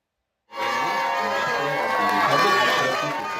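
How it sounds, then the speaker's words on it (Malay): A crowd in the arrival hall at Changi Airport applauds and cheers as the returning SCDF Operation Lionheart rescue contingent appears, a sudden loud swell of clapping, shouts and whistles that holds steady. "Bunyi tepukan gemuruh bergema sebaik sahaja kontingen operasi Lionheart muncul di Dewan Ketibaan Lapangan Terbang Changi siang tadi"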